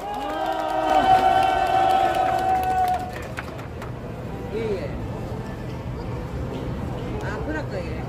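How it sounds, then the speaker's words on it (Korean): A crowd at a Busan civic ceremony honoring an elderly forced-labor survivor claps and cheers loudly, with a voice over a loudspeaker ringing out at first before the applause settles into a steady wash. "뜨거운 박수로"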